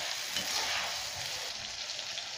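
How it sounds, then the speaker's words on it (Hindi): Ground garlic and ginger paste fries over high flame in a pan, giving a dense, even hiss of sizzling oil that stays steady with no voices. "फ्लेम थोड़ा हाई करेंगे, 1-2 मिनट के लिए फ्राई करेंगे"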